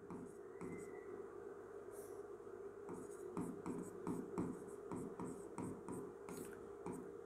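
A pen scratches across paper in short, quiet strokes while states are written out on an India map, close and soft with faint background hiss and no talk over it.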